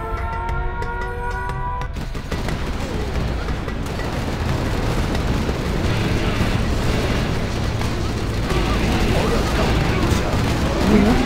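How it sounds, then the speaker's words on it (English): A nuclear missile launch and explosion in the video game Command & Conquer Generals Zero Hour, with a brief electronic tonal alert giving way to a loud, sustained rumbling roar of blast and debris that swells toward the end. "We have launched our nuclear missile."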